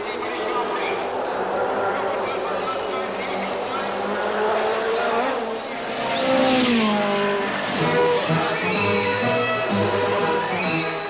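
A Lotus Ford racing car on its final lap at the 1967 British Grand Prix gives a loud, sustained engine roar whose pitch sweeps as it passes, with a commentator speaking over it.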